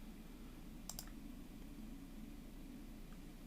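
Computer mouse clicking, a quick double click near the start and one faint click later, over a steady low room hum and hiss in a quiet setting.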